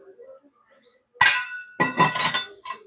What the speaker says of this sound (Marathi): आता हे परतून घेऊया आपण.